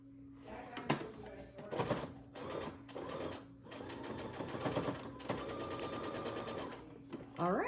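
A sewing machine stitches a horn onto a plush toy in a run of fast, rattling bursts broken by short pauses, close and clear.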